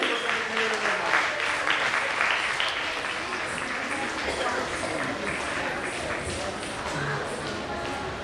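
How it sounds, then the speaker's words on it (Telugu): A crowd at a Kuchipudi dance competition applauds the performers with dense, sustained clapping that stays loud and even throughout, with no other sound standing out. "కళాకారులకు చప్పట్లు కావాలి."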